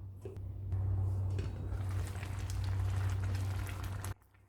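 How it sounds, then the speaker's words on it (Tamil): Moong dal and ponnanganni greens kootu boiling in a pot, a steady low bubbling and simmer with soft pops that runs continuously, then cuts off near the end. "லேசாக கொதிக்கட்டும் உப்பு சேர்த்துட்டு இறக்கிடலாம்"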